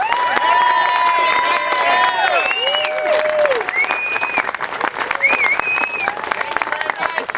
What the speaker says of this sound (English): please join me in giving a healthy round of applause to all the candidates